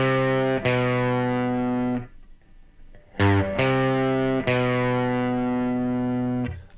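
A distorted electric guitar plays three final notes of a riff: a sustained note, a brief pause, then two more ringing notes, loud and close with no talking.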